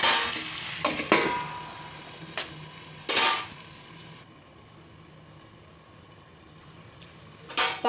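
Small raw potatoes with spices fry in a pan, with a series of metallic spoon scrapes and clanks against the pan over a low sizzle that quiets in the middle before more stirring near the end.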